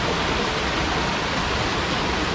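Turbulent water rushes through a river fish passage, a dense, loud and continuous broadband roar close by, with no voices over it.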